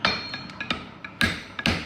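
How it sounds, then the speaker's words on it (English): Hammer blows on hot bar stock over an anvil during blacksmith upsetting, with the hammer allowed to bounce off the anvil: a run of sharp, close metallic strikes, some heavy and some lighter rebounds, in an uneven rhythm with no talk. "I'm aiming my hammer into the anvil and I'm letting it bounce off"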